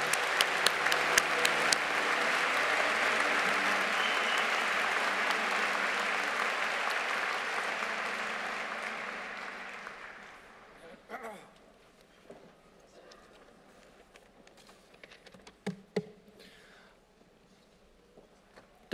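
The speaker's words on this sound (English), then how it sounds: "Please join me in a round of applause to the graduating class." A graduation ceremony audience applauds the graduating class in a large hall at an Imperial College postgraduate ceremony. Dense, steady clapping fills about ten seconds, then fades into quieter room noise with scattered claps and thumps.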